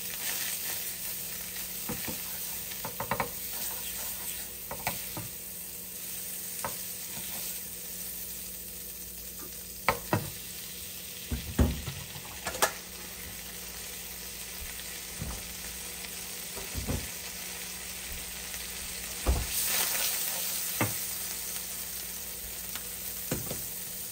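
Asparagus frying in butter in a pan, a steady close sizzle scattered with sharp pops and crackles, continuing throughout with no talking.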